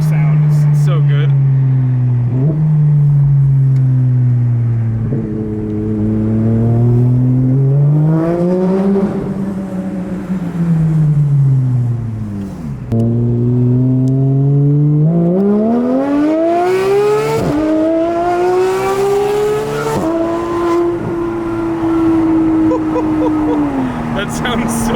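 A straight-piped Porsche GT3 engine tuned to sound like the Cup car, heard from the cabin on a ride-along. It revs up and down through several loud rising sweeps and gear changes, with voices talking over it.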